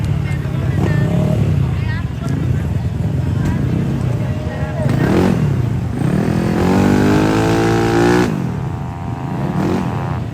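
Racing motorcycles at a regional open road race on the Rantetayo airport strip in Tana Toraja, engines revving and whining past with rising pitch sweeps under loud crowd noise and an announcer talking.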